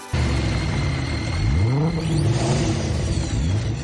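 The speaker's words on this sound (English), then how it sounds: "Races, start your engines." Race car engines fire up at once and rev hard in a loud, close roar, pitch climbing and falling through sweeping throttle blips that carry on without pause.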